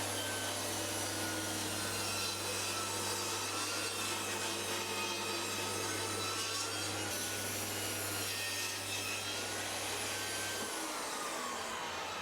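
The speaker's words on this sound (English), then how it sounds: "I think I'm going to cut a new piece out of some thicker material, and it's birch plywood" Continuous scraping strokes of a hand saw cutting thick birch plywood, steady and close throughout, with a low constant hum running underneath.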